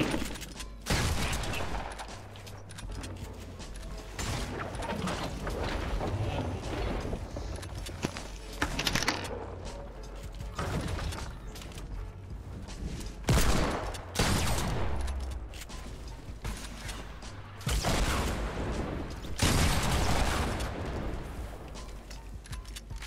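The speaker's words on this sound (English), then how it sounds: "Is that you reloading your RPGs?" Bursts of rapid gunfire and heavy launcher blasts from a combat video game, loud and repeated in several clusters with mechanical clicks between them, over a continuous low rumble.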